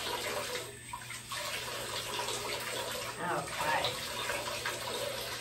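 Bath water runs steadily from a tap during face rinsing before bath yoga, a soft continuous splashing wash at low level with brief gurgles, while someone speaks a word over it.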